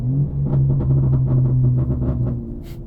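A 700 hp BMW G80 M3 Competition's steady engine rumble with a series of sharp, irregular off-throttle crackles and pops layered over it, loud and close.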